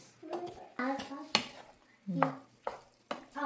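Pasta and zucchini being stirred in a pan, with a utensil scraping and clattering against the metal in several short bursts over a soft sizzle.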